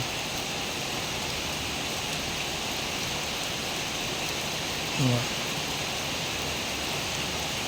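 Steady rain falls in an even, hissing wash without wind or thunder, with a brief faint sound partway through and no voices.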